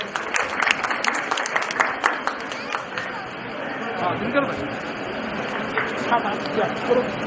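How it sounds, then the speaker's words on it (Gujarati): A crowd at a community evening honouring elders claps, dense rapid applause running throughout with a murmur of voices underneath. "જોરદાર તાળીઓ પાડો મિત્રો."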